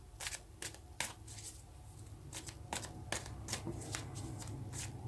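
Tarot cards being shuffled by hand, a series of crisp riffling bursts and soft flutters at close range over a quiet low hum, with no talking.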